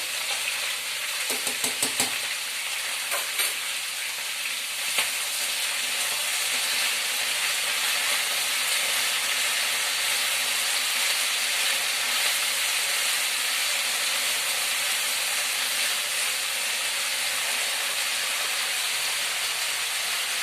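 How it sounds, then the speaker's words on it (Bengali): Dal and rice simmer in a pot for khichuri, a steady, even hissing bubble that runs unbroken throughout, with a brief cluster of clicks near the start and no talking. "আর এখানে ডাল চাল যেটা সিদ্ধ হচ্ছে এটাতে একটু লবণ দিয়ে দেবো আমি।"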